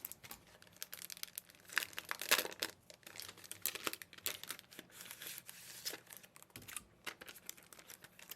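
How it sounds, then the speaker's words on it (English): Packaging of pressed flower stamp sets being opened, with close crinkling, crackling and tearing of plastic and paper in irregular bursts, with no talking. "I think I'm going to crack open these sets and get to work"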